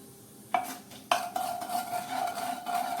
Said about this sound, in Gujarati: વરિયાળી અને હિંગને આપણે ગરમ તેલમાં મિક્સ કરી લઈએ